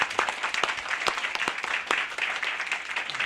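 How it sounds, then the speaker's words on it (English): Conference audience applauding the interpreters at an experts and NGO meeting, dense clapping from many people with distinct sharp claps scattered across a steady moderate-level roar. "I think we should give them an applause"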